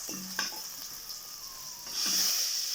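Okra and brinjal sizzle in a pan for tamarind sambar while being stirred, a continuous close hiss with a few scraping strokes of a spoon against the pan, growing louder toward the end.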